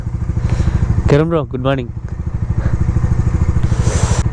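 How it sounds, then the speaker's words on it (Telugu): A motorcycle engine idles steadily with a fast, even thump after a cold start on an early morning, running near and loud throughout while someone briefly speaks over it. "సో బైక్ అయితే కోల్డ్ స్టార్ట్ చేసేసినాం."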